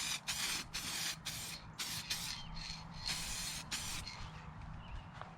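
An airbrush sprays a light coat of paint onto a 2.43 m 47% scale Pitts Special model plane in repeated short hissing bursts of about half a second each, separated by brief pauses, close and fairly quiet.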